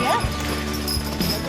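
Horses being approached and pestered in a close, noisy outdoor setting during a trip in the eastern USA, with short neigh-like calls and hoof clops standing out over a steady background and voices nearby.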